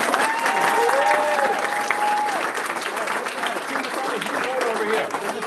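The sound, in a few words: round of applause at board meeting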